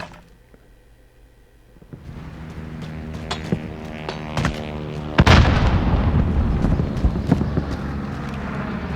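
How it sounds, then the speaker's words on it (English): Several sharp rifle shots from an M1 Garand in Call of Duty, each a loud crack with a short decaying tail, spaced a second or so apart over game ambience that builds up. "Just got to time the bob of the shot with the pull of the trigger."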